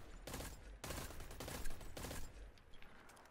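Gunfire with high-calibre rounds at floating rocks in Destiny 2, a faint, steady volley of rapid shots lasting a few seconds and thinning out at the end.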